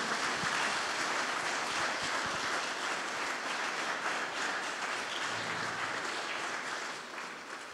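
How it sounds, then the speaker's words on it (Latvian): Audience applause at a fishing-industry awards ceremony, a dense, steady wash of clapping that fills the whole stretch at even loudness and only thins slightly near the end, with no voices over it. "Aplausi nebeidz rimties"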